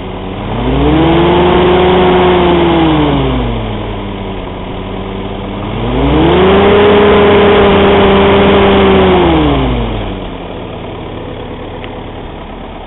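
A 1943 Ford GPW jeep engine idles steadily close by, then rises in two smooth throttle revs before settling back to idle, loud and unaccompanied by talk.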